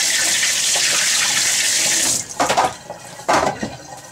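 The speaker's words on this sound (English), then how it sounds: "Quick little rinse off there." Kitchen tap runs steadily as a bowl and knife are rinsed while making egg salad, a continuous broadband hiss that cuts off after about two seconds, followed by a few close splashes and clatters.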